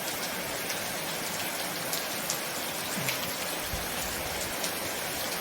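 A steady downpour of heavy rain, a thick uninterrupted wash of drops hitting the ground and roofs, with a few slightly louder spatters standing out now and then; no one speaks.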